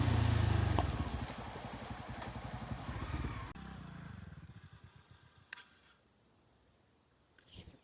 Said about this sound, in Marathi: बाईक वगैरे काढू आम्ही इकडनं आणि त्या साईडला जाऊ.